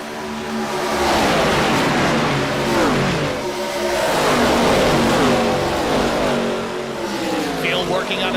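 Race cars roaring through the final lap at Atlanta, engines droning loud and steady with rising and falling revs, with a commentator talking over them.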